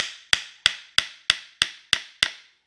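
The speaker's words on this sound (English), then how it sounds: "We kind of just hammer it, nail it together." Seven sharp hammer strikes drive nails into a wooden crate, each crack landing at a steady, even pace with a short ringing decay, close and loud with nothing else underneath.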